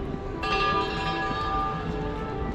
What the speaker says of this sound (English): you hear the church bells? Polish church bells.